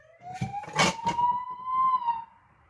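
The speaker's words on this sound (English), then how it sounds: "Whilst an ambulance goes past." An ambulance siren passes by outside as a single steady, slowly rising wail that fades away, with a few sharp knocks and thumps nearby.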